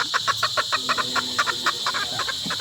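A Boston Dark gamefowl rooster clucks in a quick run of short, close calls, about a dozen evenly spaced over a few seconds, with no talk over it.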